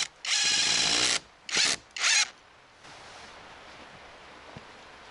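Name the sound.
power drill driving self-tapping screws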